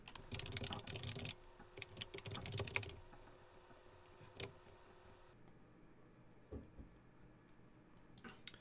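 Usenet server account details are typed on a computer keyboard: dense, fast bursts of close key clicks at first, thinning to sparse single taps and pauses.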